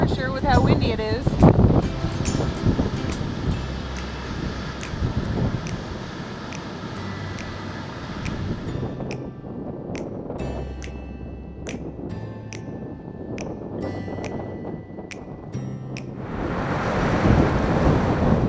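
Strong wind gusting across an empty beach on Florida's Treasure Coast, with rough ocean surf rolling in as a steady broadband roar, buffeting the microphone and swelling louder near the end; a voice talks over it.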